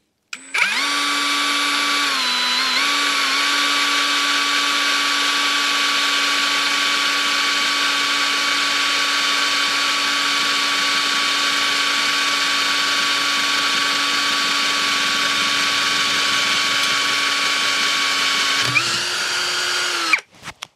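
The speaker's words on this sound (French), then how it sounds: "Voilà, un perçage assez rapide et assez facile." An Einhell Professional TP CD 18/80 Li BL cordless drill bores into metal lubricated with cutting oil, a loud steady high-pitched whine held alone for about eighteen seconds before the pitch shifts and the motor winds down.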